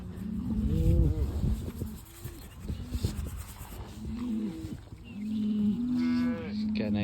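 Several cows and heifers on a farm moo close by, giving repeated low drawn-out calls one after another, with rustling in between and no talk.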